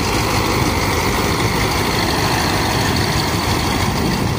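A dredger engine lifting sand from a river drones loudly and steadily, a dense continuous low rumble with no breaks or voices.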